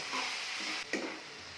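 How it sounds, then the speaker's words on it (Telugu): Mushroom pieces with salt, chili powder and turmeric are stirred in a hot pan, giving a continuous close sizzle broken by a brief scrape of the stirring utensil partway through. "తగినంత కారం, తగినంత ఉప్పు వేసి ఈ ఉప్పు, కారం, పసుపు ముక్కలకు పట్టే వరకు కలియబెట్టాలి"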